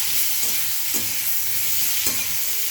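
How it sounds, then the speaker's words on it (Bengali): Potatoes, papaya, green banana, carrot and drumsticks stirred in a pan for Bengali sukto, with a steady sizzle of frying underneath and a few soft scraping strokes of the spoon, close and alone with no talk. "এবার দিয়ে ভালো করে নাড়বো।"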